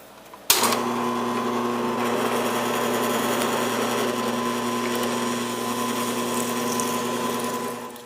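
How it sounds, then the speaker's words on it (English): A power drill bores a hole for a rudder mount in a Bonafide SS127 kayak, whining loud and steady with a sharp start that holds an even pitch for about eight seconds before easing off at the end. "this is the hole that we're going to drill for the rudder to go into"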